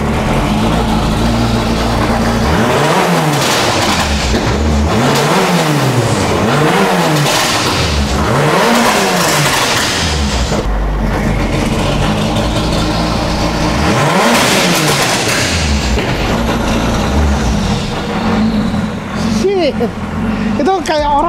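A rally car engine, shown by a professional driver, revs repeatedly in loud, close surges that rise and fall in several cycles, with talk heard over the engine noise.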